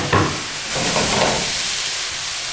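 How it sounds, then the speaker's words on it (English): Carrots sautéing in a hot pan give a steady, loud hiss and sizzle that swells after a brief clatter at the start and continues throughout. "to that pan, we're going to add our carrots. And we're basically going to saute the carrots"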